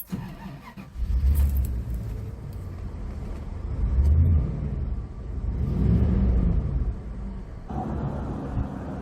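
A 1995 Bentley Turbo RL drives along an open road, its engine swelling in two long surges as it accelerates, then settling back, with no talk over it.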